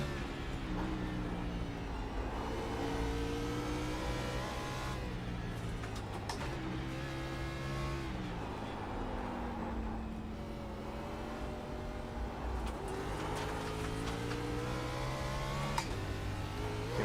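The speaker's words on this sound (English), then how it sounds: "So we're opening up in third gear. I know I'm cracking the throttle way too much." A car in a racing video game accelerates in third gear, its engine note rising and falling steadily as the throttle is worked, with continuous droning tones and no talk.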